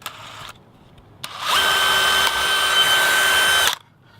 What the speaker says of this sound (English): let's go a little bit bigger and then drill for the final one in there.